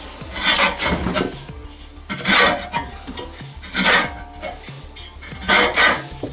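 A Fiskars helical reel mower, freed from seizing, is turned backward by hand, its blades giving repeated rasping, scraping sweeps in a steady rhythm of four or five close, loud bursts.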